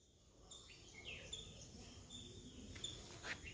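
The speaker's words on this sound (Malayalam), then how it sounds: "കിളികളുടെ ശബ്ദമാണ്." Birds chirp outdoors on a quiet morning, with scattered short tweets coming faint and distant over a low, soft background hum.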